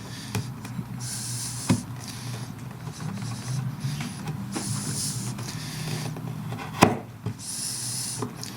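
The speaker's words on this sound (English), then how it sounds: "I'll just tidy up the edges with a chisel" Chisel paring the edges of a wooden bowtie recess in a slab tabletop, with repeated hissing scraping strokes, a few sharp knocks, and a steady background hum underneath.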